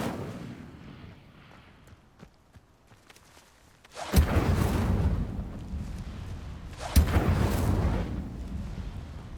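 Incendio fire spell cast in Hogwarts Legacy, a deep booming whoosh that bursts loudly around four seconds in, sustains, then flares again near seven seconds, with quieter rumbling beforehand.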